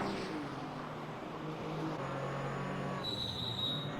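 A Porsche 935/K3 race car engine drones in a racing game at Barber Motorsports Park, a steady mid-level engine tone with shifting pitch and a thin high whine near the end.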